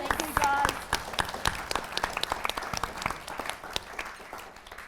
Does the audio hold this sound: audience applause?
yes